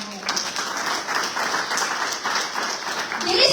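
Loud, hearty audience applause at a Hindu religious discourse, many hands clapping in a continuous dense roar that swells slightly toward the end, with faint voices mixed in.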